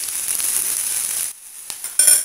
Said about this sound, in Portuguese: vou estar acrescentando 2 dentes de alho. Vamos deixar dourar.